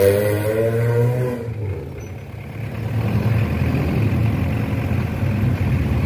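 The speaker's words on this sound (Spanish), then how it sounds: "van a escuchar el ruido del motor del carro en el que vamos" A car engine drones steadily from inside the moving vehicle on a road through Ciudad Futura in Mariona. A low hum early on gives way to a louder rough rumble, with no talking.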